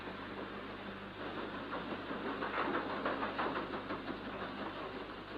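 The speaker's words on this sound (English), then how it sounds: "Powerful engines throb into life" Powerful engines of a heavily laden ship throbbing as the vessel is eased from her berth into the Manchester Ship Canal, a low, steady rumble with a faint pulsing rhythm, moderately distant.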